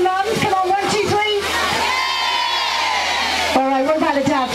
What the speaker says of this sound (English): Let's start here a cheer from the mums.